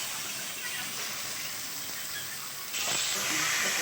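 Chicken meat sizzling in hot spiced oil, a steady close crackling hiss that grows louder near the end as more meat hits the pan.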